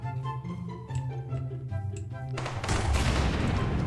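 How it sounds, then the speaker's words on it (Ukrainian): A grenade goes off in a video game as a sudden broad, loud blast that swells over the last second and a half, following a stretch of game music and effects. "Граната."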